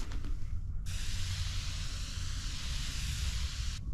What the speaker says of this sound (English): Good even spray.